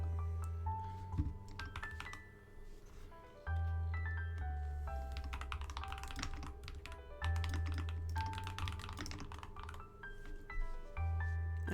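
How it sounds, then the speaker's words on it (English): Computer keyboard typing runs steadily throughout, close and fairly quiet beneath a layer of background music. "I'm typing it."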